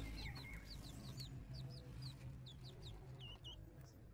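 Chickens cluck in short repeated bursts, faint and at a little distance, over a low steady background hum.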